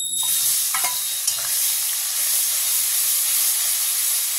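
A paste of ground ginger, garlic, onion and green chili sizzles in ghee with a steady, loud frying hiss, a few brief scraping stirs near the start.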